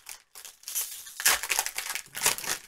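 Foil wrapper of a Jumpstart trading card booster pack being torn and crinkled open up close, a brief pause and then several bursts of loud crackling and ripping.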